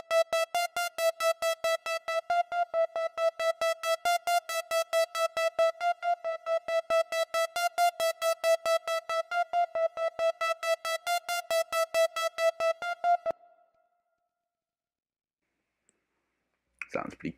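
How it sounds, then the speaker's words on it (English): A bright, buzzy synth preset called Triumph from the Vanquish Serum Bank, played in Logic Pro X: a fast, steady stream of repeated plucked notes on one pitch for about thirteen seconds, then silence before a brief return. "Synth Triumph is what it's called,"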